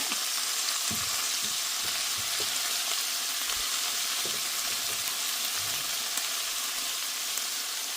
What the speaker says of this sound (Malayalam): ഇത്രയും ഇത്രയൊന്ന് വഴറ്റിയെടുത്ത ശേഷം അരിഞ്ഞ് വെച്ചിരിക്കുന്ന സ്പിനൊക്കെ ചേർക്കാം